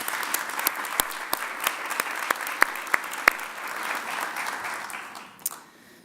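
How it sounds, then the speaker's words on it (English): Audience applause for musicians after a rendition of Amazing Grace at a 2015 Veterans Day ceremony, a steady crowd clapping with a few sharp close claps standing out, fading away near the end. "So how about a round of applause for our musicians this morning?"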